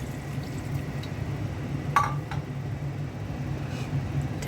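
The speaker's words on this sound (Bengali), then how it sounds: "অল্প করে পানি দিয়ে দিচ্ছি," Water poured into a pot of pangas fish curry with potatoes and tomato: a brief splash and clink near the middle over a steady background hiss, with no talking.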